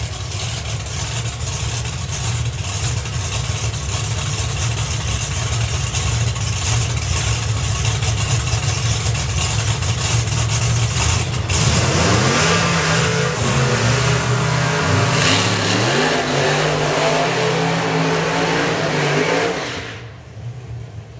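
A supercharged outlaw hot rod drag car at a drag strip roars loudly and steadily, then surges and winds up through gears on a half pass before the engine noise drops off near the end.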